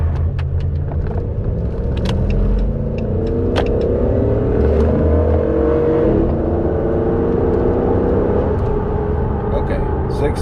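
A tuned Ram truck accelerates hard from 0 to 60 with traction control off, its engine note climbing through loud, rising rumbling sweeps with a shift-like dip partway through, heard close from inside.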